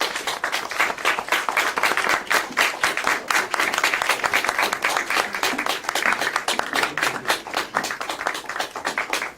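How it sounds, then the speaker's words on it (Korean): Sustained applause from a talk-show studio audience welcoming five young panelists, with dense, steady clapping that holds throughout at even strength, little talk underneath. "여러분들 모두 큰 박수로 환영해 주시기 바랍니다."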